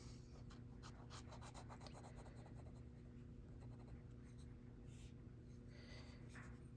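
A Kakimori glass nib scratches across paper while laying down a sepia ink sample, a soft, continuous rubbing rasp with short stroke bursts, close and fairly quiet over a steady low hum.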